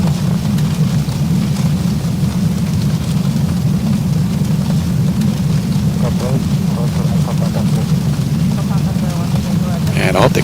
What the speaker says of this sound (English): I can hear the rain pelting the aircraft.